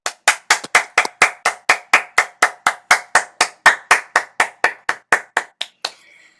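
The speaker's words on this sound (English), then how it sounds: "I'd welcome you to give Declan a round of applause" Steady, evenly spaced claps from a single pair of hands, about three or four per second for six seconds, up close and with no talking, marking applause at the end of an online event.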